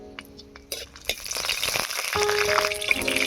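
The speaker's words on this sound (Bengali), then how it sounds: "প্রথমে ভেজে নেব শুকনো লঙ্কা" Dried red chillies hit hot mustard oil in a pan: a few sharp clinks and taps come first, then a hissing, crackling sizzle that swells and holds steady close by.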